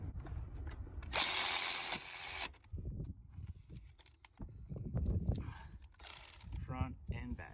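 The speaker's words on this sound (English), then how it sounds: "So now we tighten our bolts." A power tool tightens the starter bolts on a 1992–95 Honda Civic, with one loud sustained burst, a pause, then a shorter burst, close up amid clanks and faint talk in a garage.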